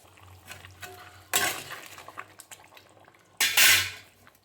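Fried potatoes are dropped into a pot of Bengali-style goat meat curry, making two loud bursts of sizzling and splashing against a quiet kitchen background, the second longer and hotter sounding, with no talking.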